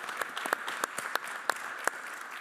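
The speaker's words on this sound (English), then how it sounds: "You can clap for her." Audience applause for a panel speaker at a debate on fair resilience for cocoa farmers: steady, fairly faint clapping from a group, with a few sharper individual claps standing out.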